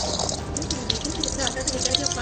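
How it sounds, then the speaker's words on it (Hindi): Running water splashes continuously over a lump of kneaded flour dough being washed by hand, a close, steady trickle with faint voices beneath. "ये पानी साफ निकल रहा है"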